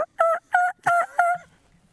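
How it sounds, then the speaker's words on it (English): A wild turkey in Connecticut turkey season gobbles outdoors, four quick rattling calls in a row, loud and fairly close, with a short quiet tail afterward. "We just want to hear him gobble 4 more times for no reason."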